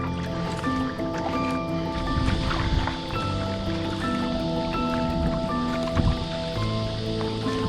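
A loaded kayak is paddled through water on a shakedown trip before a kayak camp. Steady sloshing and soft paddle splashes sound close and continuous, with a faint tonal hum underneath.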